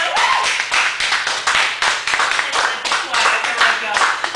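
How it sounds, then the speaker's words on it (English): A cafe audience at a Chicago poetry reading claps for the featured poet, a steady, fairly close patter of hands with slight swells throughout, no voices over it. "Give it up for Pamela"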